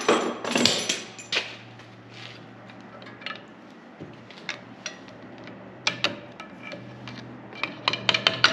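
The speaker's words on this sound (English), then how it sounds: "I'm going to use the back of the screwdriver just to finish tapping those on." Light metallic taps from the back of a screwdriver on brake parts during a brake job on a 2015 Jeep Grand Cherokee, quiet, scattered, sharp clicks and knocks over a faint steady hum.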